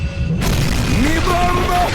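A sudden booming bomb explosion sound effect bursts in after a brief moment, filling the short clip with a loud, rumbling crash that trails off.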